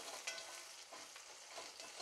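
Chopped green chillies frying in oil with onions for a Bengali Bombay duck fish recipe, a quiet steady sizzle broken by a few light scraping stirs of the spoon.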